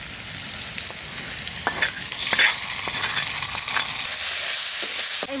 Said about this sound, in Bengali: তেজপাতা, জিরে, পেঁয়াজ কুচি, এবার দিয়ে দেবো মশলা।